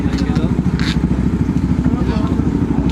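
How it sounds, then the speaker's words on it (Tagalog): A Bristol 200 motorcycle engine idles close by with a steady, throbbing rhythmic putter, while people talk over it. "Ito na yung nakuha naming motor."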